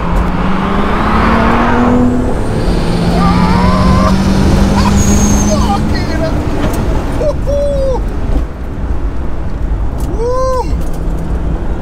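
A 700 bhp turbocharged Toyota Supra pulls hard on roads in Wales, its engine and road noise loud and continuous from inside the car, with rising tones as it revs.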